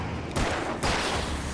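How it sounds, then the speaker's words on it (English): Explosions in the video game Alan Wake: a dense burst of blasts, two loud bangs in quick succession over a steady rumbling background, no talking. "Those are all exploding."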